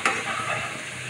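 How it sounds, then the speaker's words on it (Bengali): Okra hisses in a hot pan in a short, steady sizzle that opens with a sharp crackle when it hits the oil, close and alone. "এখানে আমি ভেন্ডি দিয়ে দিয়েছি।"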